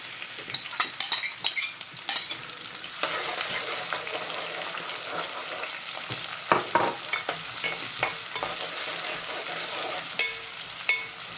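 Onions and chillies fry in oil for a dry fish curry, giving a steady hissing sizzle with intermittent clacks of a spoon stirring against the pan, and no voices.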